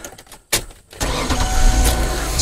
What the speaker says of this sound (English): We'll crank this car over.